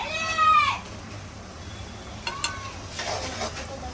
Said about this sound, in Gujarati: આપણી આ ડુંગળી ને મરચાં સતરાઈ ગયા છે. જોતરી આવે મિત્રો. હવે આપણે નાખશું ટમેટા.